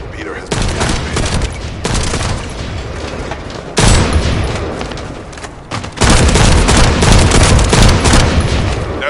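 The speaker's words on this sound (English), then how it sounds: "That stopped the gunfire." Heavy, continuous gunfire and explosions from a PS4 video game roar in dense bursts, loud and close, with brief breaks between intense volleys.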